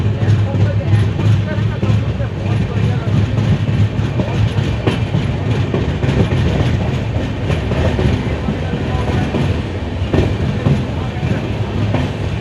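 Paharia Express passenger train pulling out of the station, a steady loud rumble of wheels with soft clickety-clack on the rails; people talk over it throughout.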